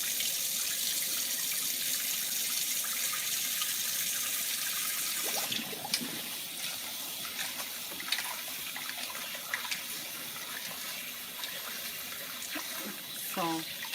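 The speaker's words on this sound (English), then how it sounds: "So, washing the rice." Tap water runs steadily into a sink while rice is rinsed, a continuous hiss with faint stirring and clinks of grains and pot toward the end.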